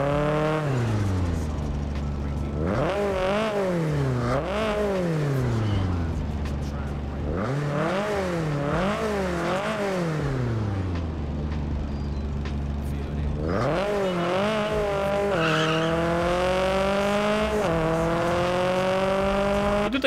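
An Abarth in Test Drive Unlimited revving and driving, its engine note climbing and dropping through repeated gear changes, steady and close, with a brief lull before pulling hard again.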